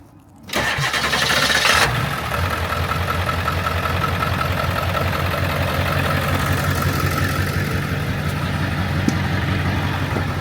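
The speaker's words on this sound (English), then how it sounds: "This truck started up nice and easy this morning." A truck engine cranks and catches on a cold morning around 15 degrees, firing up abruptly after a brief quiet moment, then settling into a steady, rumbling idle that runs on loud and close with no talking.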